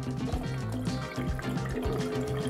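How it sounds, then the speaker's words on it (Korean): A small household humidifier lets water trickle and drip steadily, a continuous close liquid patter with a low pump-like hum underneath, fairly quiet and without any talk. "요런 식으로 그냥 물이 졸졸졸졸 떨어지는 버전도 있는데"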